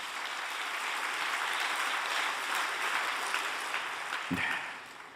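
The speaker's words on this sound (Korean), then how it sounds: "격려의 박수 한번 보내주시면 감사하겠습니다" Audience applause at a prayer training retreat, dense and sustained clapping from a large crowd, fairly distant and even throughout, with a faint knock near the end.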